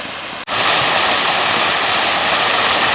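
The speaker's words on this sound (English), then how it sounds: "So the fountain here is very impressive once you get close." Water from a large garden fountain with a dragon, Perseus and Andromeda pours and splashes loudly and continuously. The roar starts abruptly after a brief quieter moment at the beginning.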